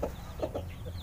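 Newly hatched pelung chicken chicks clucking, a few short soft calls in quick succession, close by, over a low background hum.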